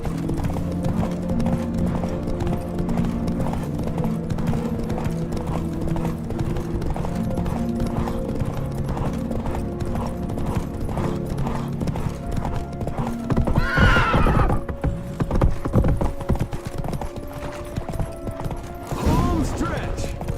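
A horse gallops in The Witcher 3 with rapid, loud clip-clop hoofbeats, whinnies and neighs near the end, and voices talk over the hooves.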